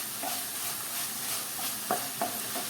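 Spinach cooks in oil in a pan, giving a soft continuous sizzle that is broken by a few brief stirring scrapes near the end. It is moderately close and there is no talking.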